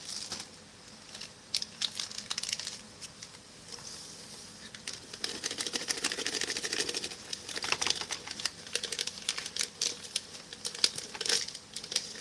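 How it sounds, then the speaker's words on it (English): Plastic ration trash from a 2021 Halal US MEE meal crinkles and crunches as it is stuffed into the ration bag, close and continuous with irregular sharper crackles throughout. "putting all of my trash into the ration bag"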